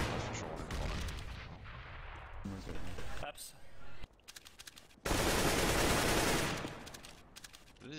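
Gunfire and the blast of a grenade sound through a round of Counter-Strike. Bursts of shots come and go in a shifting mix, and a loud, dense stretch in the middle may be the explosion. Players talk over parts of it.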